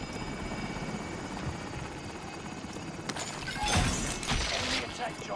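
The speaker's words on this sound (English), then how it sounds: "Enemy attack chopper is in the AO. Destroy it and recover the cash." Enemy attack helicopter in a video game, its rotor drone running steadily through the clip and thickening with louder bursts of gunfire or impacts near the end, while players talk over it.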